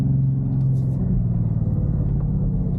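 A 2026 Dodge Charger Sixpack Scat Pack with twin turbos, 550 horsepower, heard from inside while driving: a steady, deep engine rumble holds loud and even for the whole stretch.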